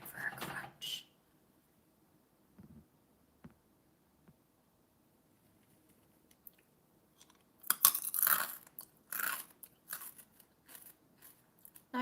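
Crunchy food being chewed close to the mic: a short burst of loud crunching bites at the start, then after a quiet stretch a longer run of crisp, irregular crunches and chews.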